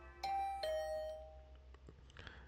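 Two-tone ding-dong doorbell in the video game The Hundred Line: Last Defense Academy, rung once, with clear ringing tones that fade out, followed by faint soft game sounds.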